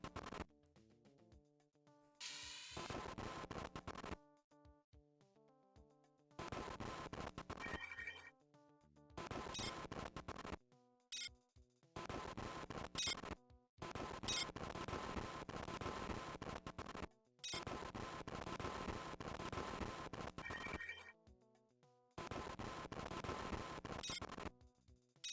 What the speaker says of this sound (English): Sorry about the radiation noise.